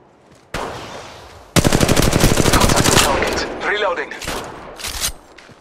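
Rapid automatic gunfire in Apex Legends Mobile during Mirage gameplay: a short opening burst, then a loud, sustained stream of shots, followed by scattered bursts that fade toward the end.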